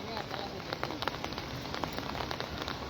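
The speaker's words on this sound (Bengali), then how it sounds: "বৃষ্টি পড়ছে অনেক সুন্দর লাগে" Steady rain falls during a dark, heavy downpour in Comilla, Bangladesh, giving a dense, even patter of drops on surfaces nearby, with no voices.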